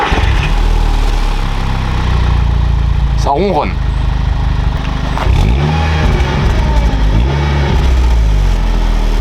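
Stock Volkswagen Golf 6 GTI engine idling with a steady low rumble throughout, a couple of brief revs rising and falling near the car, while people talk over it.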